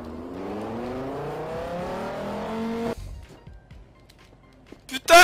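A car in the game Garry's Mod DarkRP revs up and accelerates away, engine pitch climbing steadily for about three seconds before cutting off abruptly, followed by scattered clicks and a sudden loud burst at the end.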